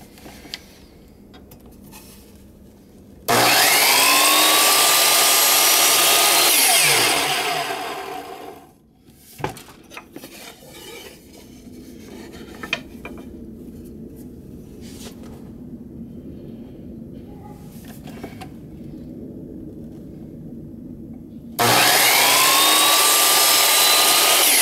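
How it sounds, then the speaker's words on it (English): Power saw cutting two 16-inch wooden dowels for a book rack in a workshop: two loud, sustained whirring cuts, one at the start and another near the end, separated by quieter shop noise and handling. "let's cut our 2 16-inch long dowels"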